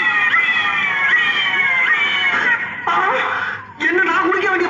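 A cat meows in repeated drawn-out, wavering cries at close range, with people talking and chuckling alongside.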